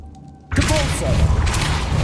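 Depulso spell in Hogwarts Legacy: after quiet, a sudden loud whooshing blast bursts out and sustains with a rumbling, sparkling magical rush.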